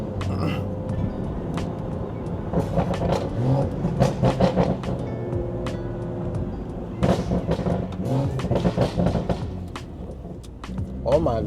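A full-bolt-on B58-engined car accelerates hard from inside the cabin, its engine revving loudly and steadily with a dense roar, broken by short sharp crackles and pops.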